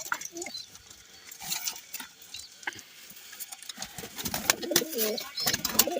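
Pigeons kept in a loft with nesting pairs and young birds coo softly at close range, with a few wing flutters and pattering sounds and occasional quiet talk nearby.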